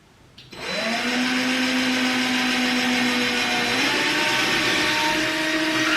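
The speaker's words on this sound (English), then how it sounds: "to drill the other holes because I did not fill a stud on the other holes" A power drill whirs up and runs steadily at a high, strained pitch, dipping slightly partway through as it bores into a wall, missing the stud, loud and close.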